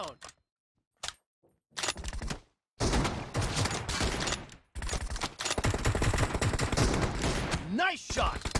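Bursts of automatic gunfire in a competitive shooter video game match, loud dense rattling after a few brief isolated shots and short silences, with game announcer-style voices mixed in.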